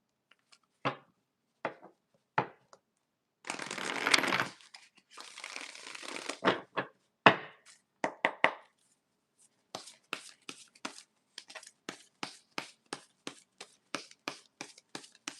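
Tarot cards are handled at close range: scattered single snaps and flicks, two longer riffling shuffles, then a rapid series of crisp card slaps as cards are drawn and laid down, with no talking.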